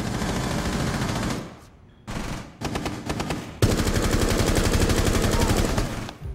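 Rapid automatic gunfire bursts in a Rainbow Six Siege match, loud and close, with a brief lull partway through before a long sustained burst of shots resumes.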